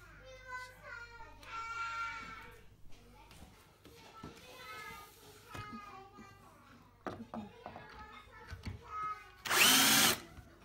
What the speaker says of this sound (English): Just using a homemade dust catcher to catch the dust when I drill the hole.